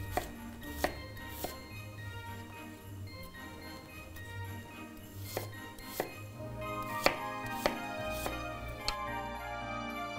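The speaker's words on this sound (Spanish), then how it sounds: "vamos a quitarle la cáscara y lo vamos a picar en cubos del mismo tamaño que hemos cortado la papa" A knife dices a peeled apple into even cubes for a potato salad, giving faint, sharp chopping knocks on a board at an irregular, unhurried pace, roughly a dozen strikes over ten seconds.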